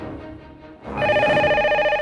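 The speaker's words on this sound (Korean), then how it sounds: "걸려온 전화." A telephone rings with an incoming call, a steady electronic ring starting about a second in and continuing loud and sustained over a quieter background of voices and music.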